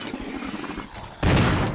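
Gunfire in the video game Resident Evil (Remastered) breaks out abruptly near the end as a loud, dense burst, following a quieter stretch of game noise.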